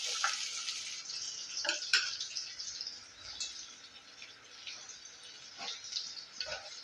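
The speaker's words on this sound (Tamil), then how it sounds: "இப்போ அதே எண்ணெயில் சோம்பு பொரிஞ்சது, வெங்காயம்" Fennel seeds and sliced onion fry in the same oil used for potatoes, producing a steady, bright sizzle with scattered small crackles and spits, fairly close and quiet, with no talking.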